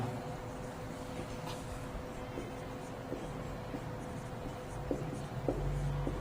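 Chalk or marker writing out a decomposition chemical reaction on a board during a Class 10 science lesson, a faint steady scratching under a low room hum with a few small taps, no speech.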